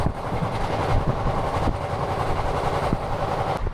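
A passenger train travelling at night from Sealdah toward Varanasi in India rumbles steadily along the rails, with a continuous dense roar and faint wheel clatter heard close from inside the carriage.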